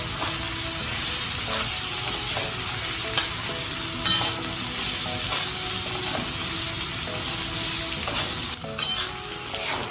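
Green chillies sauté in a hot pan while a spoon stirs them now and then, a steady sizzle broken by sharp scrapes and clicks against the metal.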